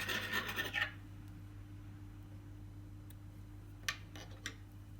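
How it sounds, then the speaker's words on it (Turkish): Scissors snip thread after stitching Turkish needle lace (iğne oyası): a short rasping rub at the start, then two faint, crisp clicks near the end over a steady low hum. "Şöyle şimdi ipimi kesiyorum."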